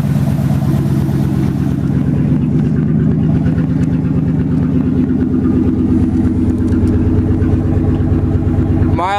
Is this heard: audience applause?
no